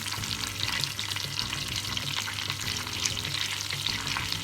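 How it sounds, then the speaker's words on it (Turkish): Chili flakes sizzling in melted butter in a pan over lowered heat, a steady, close crackling fry with a low stirring rumble and no talk, continuous for a few seconds. "Hemen eridikten sonra üzerine 2 çay kaşığı kadar pul biber ilavesi yaptım."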